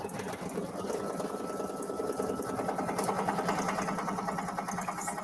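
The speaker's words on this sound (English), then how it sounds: "you can just really see how it's stitching around on there." Embroidery machine stitching the outline of an in-the-hoop turkey mask for kids, a steady, fast mechanical whirring and needle chatter that runs continuously and fairly loud throughout, with no voices.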